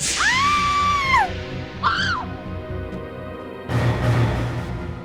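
A woman screams in a TV crime drama: a long high wavering shriek, then a shorter second cry, followed by a sudden loud burst of noise.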